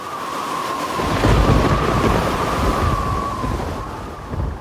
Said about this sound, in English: By the end of the week, as she had accurately predicted, a storm arrived.